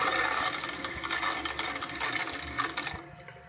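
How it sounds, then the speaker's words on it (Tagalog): Tap water running from a faucet fed by household water pipes in a provincial home in Tacloban, a steady rushing hiss of flowing water that tapers off near the end, fairly close and alone. "Tubig na galing gripo, na galing sa water pipes talaga."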